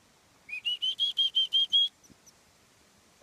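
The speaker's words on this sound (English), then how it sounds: "my little Nuthatch." A pet nuthatch gives a quick run of about eight bright, evenly spaced chirps, loud and close, followed by a short pause and a faint final note.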